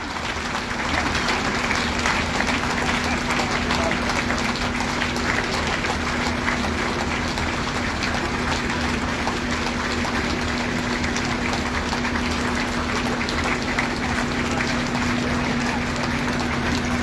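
A crowd at a political meeting in Badam Pahar keeps up a dense, continuous wash of clapping for over fifteen seconds. A steady electrical hum from the sound system runs underneath, with no talk.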